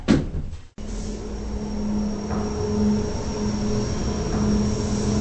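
Elevator doors in a Roblox game slide shut with a brief mechanical thud at the start, then a steady hum and faint rolling rumble carries on alone.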